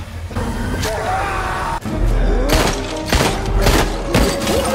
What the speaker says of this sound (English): then there was a fight and shootout between them